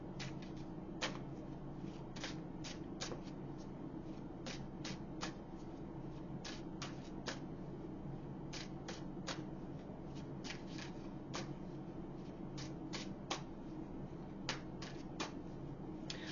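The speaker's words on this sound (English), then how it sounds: "But let me pull some more cards." Tarot cards being shuffled and pulled by hand in a quiet room, a steady series of soft, crisp card snaps and riffles repeating irregularly over a low constant background hum, close and fairly faint.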